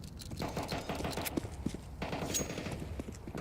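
Pistol gunfire in a Counter-Strike esports match, rapid faint pops and clicks mixed with footsteps in a quiet, low-level stretch of game sound.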